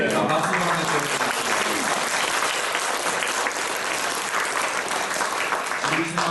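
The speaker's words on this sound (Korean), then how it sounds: "자, 박수 한번 주세요" An audience at a seminary entrance ceremony claps to welcome new students, a sustained dense round of applause with a voice briefly heard at the start and end.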